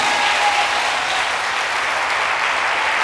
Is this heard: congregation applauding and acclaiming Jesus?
yes